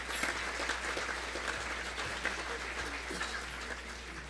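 A room of guests applauds at a business awards luncheon, steady clapping heard from a distance and fairly faint, without any talk over it.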